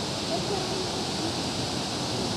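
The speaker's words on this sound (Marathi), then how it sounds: "आपण बघू शकतो हा पूर्ण धबधबा असा वाहत खाली जातोय" A steady, rushing roar of Kalu Waterfall's falling water, broad and unbroken, holding at the same level for the whole stretch.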